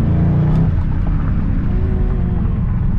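Ford Mustang Roush Stage 3 Blackjack Edition, its engine exhaust giving a steady, deep, throaty rumble close by, with no talk over it.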